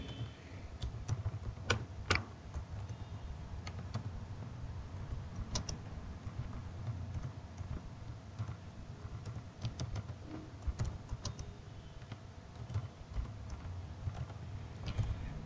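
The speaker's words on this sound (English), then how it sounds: "So the same program I'm typing here." Steady computer keyboard typing, quick irregular clicks and taps continuing throughout with no talking, fairly close and moderately quiet.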